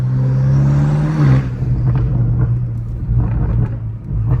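A BMW M5 Competition with a twin-turbo V8 pulls hard through a low gear, a loud deep engine note that climbs, drops with a shift and keeps rumbling close by from inside the car.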